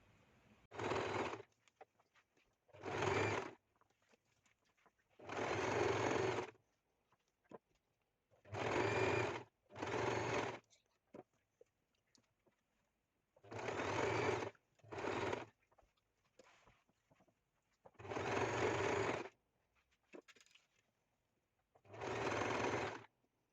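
Domestic sewing machine running straight stitches around the edge of a fabric bandana, in about nine separate bursts of steady whirring, each lasting one to two seconds, with short quiet pauses between them.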